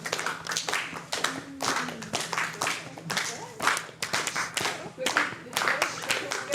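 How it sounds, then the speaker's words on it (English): An audience claps steadily as children leave the stage at a festival event, with a voice speaking over the applause. "If you want to clap them out, give them some guidance where they're going."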